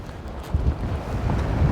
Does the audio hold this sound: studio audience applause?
no